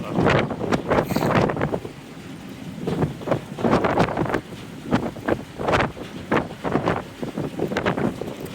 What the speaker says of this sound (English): this is cool to ride on a ferry like this.